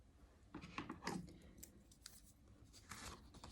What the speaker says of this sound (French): Nous allons prendre notre paire de ciseaux